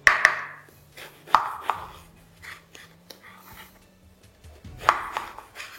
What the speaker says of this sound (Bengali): এবারই একইভাবে আমি সেকেন্ড বেগুনটাও কেটে নিচ্ছি